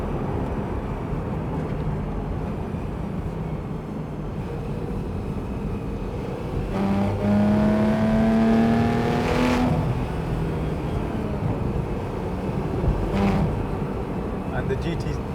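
A car engine pulls in gear while driving, a steady drone rising in pitch as it accelerates through the middle stretch before easing off, with wind and road noise around it.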